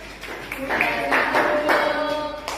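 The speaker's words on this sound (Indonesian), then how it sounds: "Oke, tepuk tangan untuk kelompok 2 malaikat Mikael." A small classroom group claps briefly for a student team, a short burst of hand claps with a teacher's voice mixed over it.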